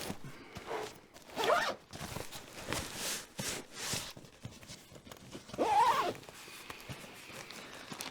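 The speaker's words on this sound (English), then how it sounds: "this guy zips closed." A zipper on a bag's low side pocket is pulled closed in a few quick rasping strokes, close and clear, separated by brief rustles of the bag's fabric.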